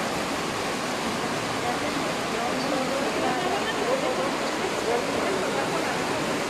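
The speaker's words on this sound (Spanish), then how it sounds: "el agua está impresionante, está bajando de aquí de la callecita que es la barranca." Loud, steady rushing floodwater fills the scene in Ecatepec, Mexico during extreme weather, a broad continuous roar pouring down a street, with a voice faintly underneath.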